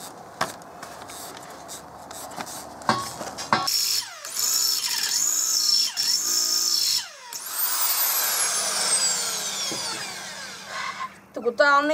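A worn power drill whirs in bursts at close range, its motor rising and falling in pitch between clicks and handling noises, with someone talking in between.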